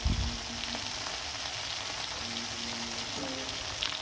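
Hilsa fish fry in hot oil in a pan, giving a steady, close crackling sizzle that stays even throughout, with a brief knock at the start and no talk.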